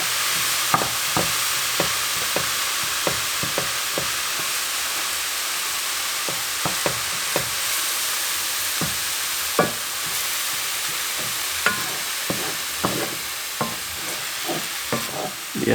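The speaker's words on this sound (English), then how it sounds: "So we're going to brown up all of this meat with the garlic cloves now." Ground beef and garlic cloves brown in a cast iron pan, a constant loud sizzle broken by frequent sharp scrapes and taps of a utensil stirring, close up with no talking.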